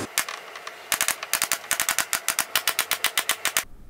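A staple gun drives fine wire upholstery staples through fabric into an ash hardwood frame of an antique L & JG Stickley settle, firing about twenty sharp, close, rapid snaps in an uneven rhythm with no talking.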